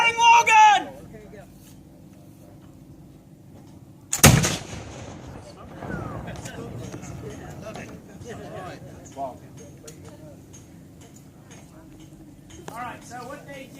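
A historic wall gun fires during an artillery demonstration at the Fort Loudoun historic area in Vonore, Tennessee: one sharp, loud blast with a brief rumbling tail, followed by faint outdoor murmur and a quiet crowd.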